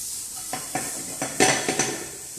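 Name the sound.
sautéing capsicum and tomato julienne in a pan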